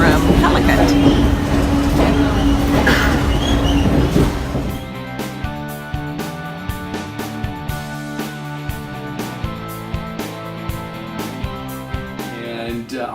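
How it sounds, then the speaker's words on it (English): A passenger train travelling from Calicut to Kochi in Kerala. It opens with a loud rushing roar, then settles into a steady clickety-clack of wheels over rail joints beneath a low rumbling hum. "Taking the train to Kochi from Calicut"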